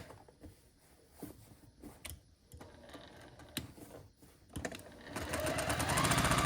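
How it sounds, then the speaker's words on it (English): A sewing machine runs in short bursts stitching a small cloth napkin, the whirring growing steadier and louder toward the end, close up with no talking. "You can sew straight off the edge and then come back on the edge on the next side"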